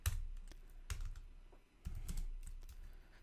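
Someone types on a computer keyboard in quick, faint bursts of key clicks with brief pauses between them, close up and without speech.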